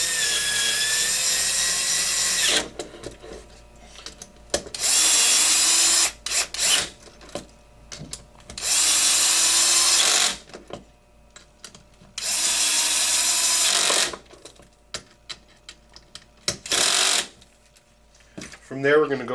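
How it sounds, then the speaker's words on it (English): An electric drill drives bolts on an HPI Baja SS RC car in several loud, close bursts of whirring, each a second or two long, with someone talking in the pauses between them. "I'm real familiar with my electric drill, so I know the proper torque settings to use on most of the bolts"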